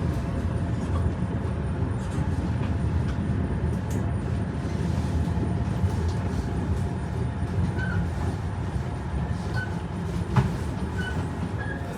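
A tram rolls through Florence as a passenger rides aboard, with a steady, continuous rumble of wheels and motor, a faint high squeal near the end, and no talking.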